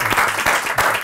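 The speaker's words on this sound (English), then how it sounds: "I just want to give a round of applause to Ian" Audience applause at a launch event Q&A, a brief burst of clapping from a crowd, fairly loud and close.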